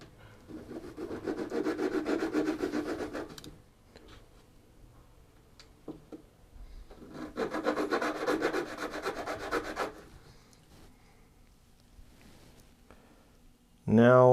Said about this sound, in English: now I'm going to grind off those barbs so this is nice and thin